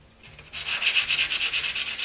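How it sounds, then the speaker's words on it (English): Sandpaper rubs along the edges of a cement hand lifecast in quick, rhythmic back-and-forth strokes, close and steady with a bright rasping hiss after a brief quiet start. "sand down the edges and just get a relatively decent finish"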